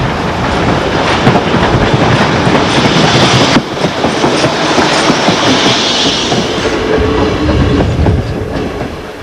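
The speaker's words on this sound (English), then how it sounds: "a PT-47, a superb express passenger locomotive still looking good on a two-coach local" A Polish PT-47 steam locomotive hauls a two-coach local train, giving a loud, close, steady roar of running gear and wheels with rhythmic clickety-clack over the rails and no voices.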